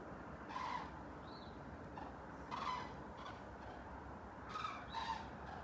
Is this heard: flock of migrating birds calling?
yes